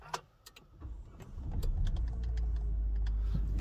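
Renault Captur engine starting: clicks and a brief whir, then the engine catches at about 1.5 seconds and settles into a steady, close low idle rumble.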